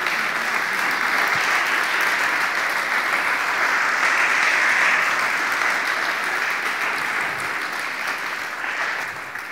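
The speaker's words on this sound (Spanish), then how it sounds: "Amén, le damos un aplauso a Él," Steady, sustained applause from a church congregation during a Christian sermon, a dense continuous wash of clapping that holds at full strength for the whole stretch and tapers slightly near the end.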